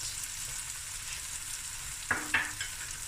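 Onions frying golden brown in a pan for a lamb shank akhni, a steady close sizzle with a couple of brief stirring scrapes near the end, with no talking.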